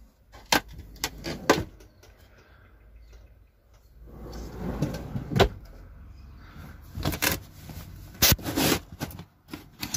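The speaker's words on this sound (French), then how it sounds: "J'ai fait un grand tiroir en dessous de la literie pour stocker les draps, les couettes" A large wooden storage drawer built under the bed of a converted camper van slides open or shut, giving a few sharp knocks and a rolling scrape, with some thumps and handling noise nearby.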